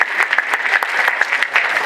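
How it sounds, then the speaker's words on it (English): A short burst of audience applause, steady and fairly loud throughout, with dense overlapping claps and no voices. "give him a round of applause"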